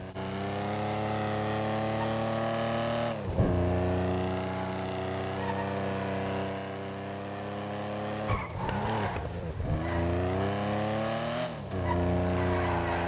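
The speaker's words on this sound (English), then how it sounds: "It is a beautiful straight six cacophony going through those side-mounted, front fender-mounted exhausts." A 1952 Le Mans racing car in GTA 5 drones loudly and steadily with its straight-six engine, exhausting through front fender-mounted side pipes. There are brief drops as it shifts or lifts off, and tires squeal near the end.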